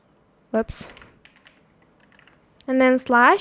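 Light clicks of a computer keyboard being typed on, faint and scattered, between two short, loud vocal sounds near the start and end.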